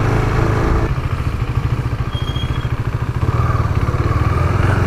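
A KTM 390 Duke motorcycle is ridden close by, its single-cylinder engine giving a loud, pulsing chug that shifts in pitch as the throttle changes, with no voices.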